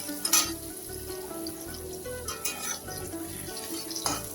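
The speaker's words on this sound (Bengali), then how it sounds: "পেঁয়াজটাকেও ভালো করে আমি ফ্রাই করে নেব।" Chopped onions fry in a pan for sorse ilish, a soft continuous sizzle with occasional scraping and stirring clinks, fairly quiet and close.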